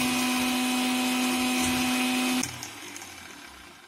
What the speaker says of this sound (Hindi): और बंद करके इसको मिक्सी में पीस लेंगे